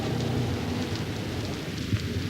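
Pouring rain falls steadily and densely, a continuous loud hiss of drops hitting surfaces with no voices over it.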